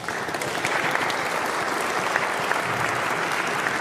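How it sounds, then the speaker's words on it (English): A concert audience at a choral and mariachi performance breaks into applause for a guitar professor being introduced, a steady, dense roar of clapping hands that holds evenly throughout, with no talk over it. "This is where you clap."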